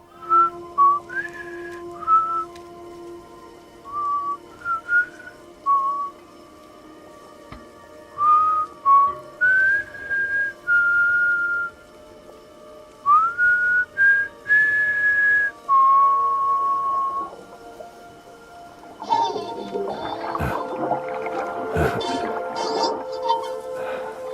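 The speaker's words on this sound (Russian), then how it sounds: "Клифф начинает насвистывать песню, и Сэм продолжает его." A melodic tune whistled in the video game Death Stranding, clear close phrases of rising and falling notes with short pauses, and a louder, rougher burst of sound near the end.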